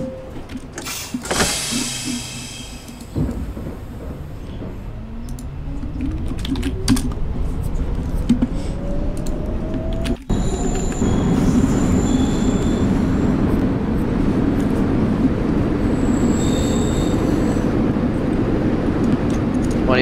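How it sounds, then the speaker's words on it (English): An R62A subway train in the OpenBVE simulator shuts its doors with a few clunks, then pulls away. Its motor whine climbs steadily in pitch over a constant rolling rumble, with a sharp click partway through. "Stand clear of the closing doors, please."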